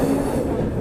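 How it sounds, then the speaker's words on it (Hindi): Marathwada Sampark Kranti Express, running seven hours late because of fog, rolls into Hazrat Nizamuddin railway station with a steady, loud rumble of rail wagons and a faint wheel squeal, alone for a brief moment. "5:10 पर हमें एंट्री दी जा रही है हज़रत निज़ामुद्दीन रेलवे स्टेशन पर"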